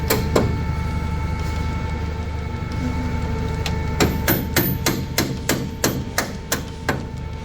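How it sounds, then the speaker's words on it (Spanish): A series of sharp, evenly spaced strikes of a rubber mallet hitting something solid while installing an LS 5.3 engine in place of a 305, speeding up toward the end over a low background hum. "Martillo de goma"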